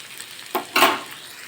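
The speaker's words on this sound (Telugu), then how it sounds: "క్యారెట్ త్వరగా మగ్గదు కాబట్టి ఫస్ట్ ఆయిల్లోనే క్యారెట్ని మగ్గించుకోవాలి." Carrots frying in hot oil give two brief, bright sizzling bursts as they are stirred in the pan, close and with no talking.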